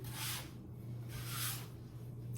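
A bench scraper works flour into bagel dough on a counter, making soft rhythmic scraping and rubbing strokes that swell and fade several times, close and quiet.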